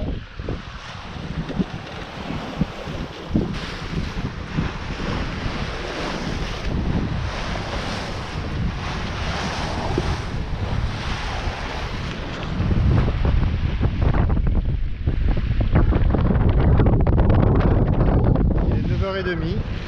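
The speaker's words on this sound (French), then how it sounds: "15 nœuds de vent, une belle mer." Strong wind roars and sea waves surge steadily around a sailboat heading from Zakynthos, Greece toward the Strait of Messina, loud and close on deck, building heavier in the second half.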